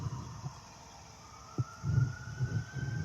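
A fire truck or ambulance siren wails faintly in the distance outdoors, a steady rising tone beneath low rustling and thumping from a field.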